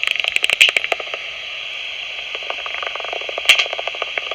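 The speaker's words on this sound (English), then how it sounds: "with those loud clicks, that's pipistrelle social calls." Rapid, uneven clicks and chirps of pipistrelle bat social calls from a bat detector crackle over a steady hiss, with a sharp louder burst near the end.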